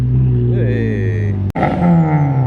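A car engine revs loudly nearby at a car meet, a sustained throaty drone rising in pitch, breaking off abruptly, then picking up again, with voices talking over it.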